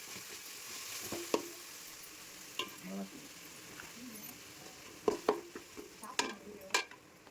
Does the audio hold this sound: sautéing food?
yes